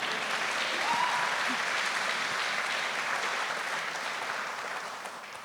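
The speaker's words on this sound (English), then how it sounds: "Please clap." Audience applause at a public talk on the future of the Democratic Party, a sustained dense clapping from a crowd that holds steady and fades slightly toward the end.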